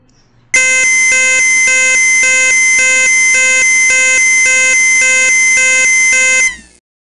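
A loud electronic Tucano ambulance siren alternating between two tones in a steady repeating cycle, running continuously for several seconds before cutting off.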